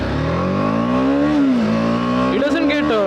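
A BMW G310R motorcycle makes a launch, its engine revving hard and rising in pitch, with a brief dip at each quick upshift, loud and close from the rider's point of view.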